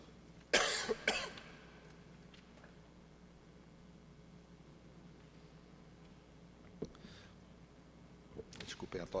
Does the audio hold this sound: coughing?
yes